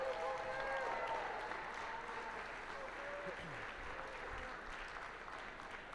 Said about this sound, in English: Another big round of applause for the amazing game announcer you've been hearing, Colston over here